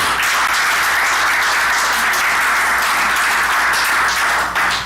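A church congregation breaks into loud, sustained applause, dense clapping from many hands filling the room evenly for several seconds before easing slightly at the end.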